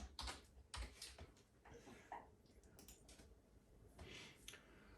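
Fingers typing a Wi-Fi password on a computer keyboard during Raspberry Pi setup, a soft, close run of quick key clicks in bursts with brief pauses, quiet and without talk.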